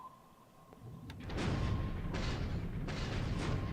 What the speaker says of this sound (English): 1 more hit on this Japanese submarine here from the British destroyers here.